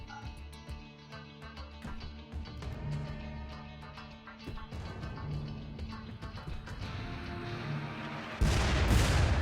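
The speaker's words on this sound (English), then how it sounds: "I could try to shoot over here with the mortars" Mortars fire in RimWorld as a scattered series of dull thumps and cracks over a busy game backdrop, closing with a loud broadband burst near the end.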